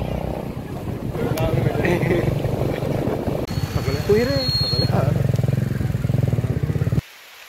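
A motorbike engine hums steadily while riding, with a voice talking over it; the engine noise cuts off abruptly near the end.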